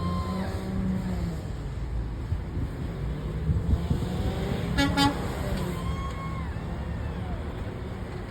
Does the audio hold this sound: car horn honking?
yes